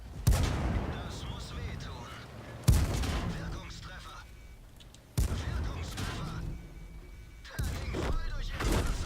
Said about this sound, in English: Oh, and then I get artillery.